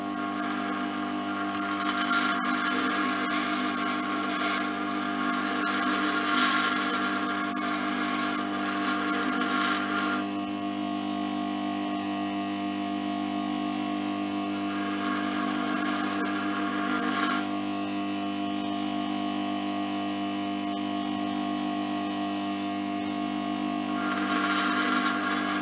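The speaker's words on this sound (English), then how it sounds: "So I'll grind the tool and see how we go. Yeah, just grind our nose radius." A lathe cutting tool's nose radius is ground on a machine that hums steadily throughout, with rougher, louder grinding passes coming and going in a few separate stretches.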